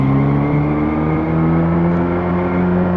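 A car driving and accelerating in a Unity-built game, a loud close engine drone with steady tonal whine that rises slightly in pitch, continuous throughout.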